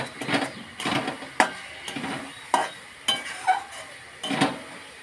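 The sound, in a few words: fish curry base being sautéed and stirred in a pan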